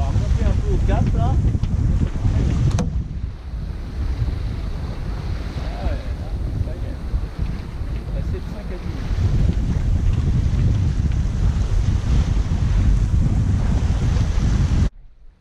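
Strong wind buffets the microphone aboard a sailing boat while waves wash around the hull, a steady roar with brief gusts and scattered voices beneath.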